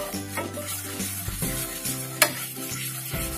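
Maida flour being stirred and roasted in butter in a pan, a soft steady sizzle with repeated scraping strokes of the spoon and one sharp clink, heard close and alone.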